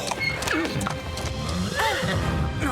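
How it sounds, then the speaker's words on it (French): Several horses whinny and neigh repeatedly, close and loud, with hooves clopping in the background. "ce sont les chevaux"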